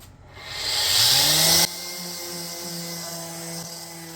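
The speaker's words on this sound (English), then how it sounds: "We're going to start with 80 grit. So we use the rigid sander." Ridgid power sander working wood with 80-grit paper, a loud rough hiss that swells as the pad bites, then eases to a steadier lighter drone once lifted.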